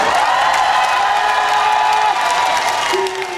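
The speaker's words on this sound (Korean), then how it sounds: "그렇다면 다시 한번 박수 한 번." Audience applause and cheering at a rose festival concert in Seoul, a dense sustained wash of many hands clapping from a large crowd, steady and loud, easing slightly near the end.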